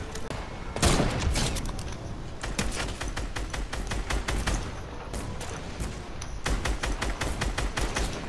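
Dense, continuous volleys of video-game gunfire crackle for several seconds, rapid overlapping shots at steady loudness with a heavier blast near the start.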